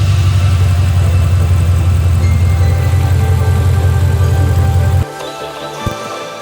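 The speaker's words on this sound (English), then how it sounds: "And now it's time for the first engine start." An Audi S8 D4 with the 4.0 TFSI engine fires up after an oil change and settles into a loud, steady, deep idle close by, then abruptly shuts off near the end.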